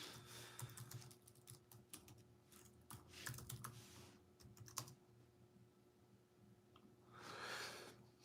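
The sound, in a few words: typing an email on a computer keyboard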